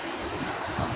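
A river in the Pahalgam valley of Kashmir rushes in a steady, broadband roar, close and loud, with wind buffeting the microphone.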